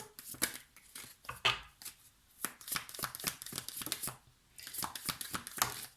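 Tarot cards being drawn and shuffled by hand at close range, a rapid series of crisp riffling flicks and slides in uneven bursts with short pauses between.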